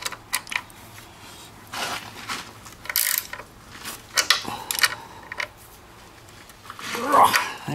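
Ratchet tightening a lag bolt with a washer into wood in a storage loft, short bursts of clicking strokes with pauses between, close by, with someone talking at times.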